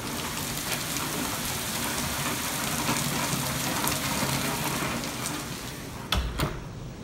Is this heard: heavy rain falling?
yes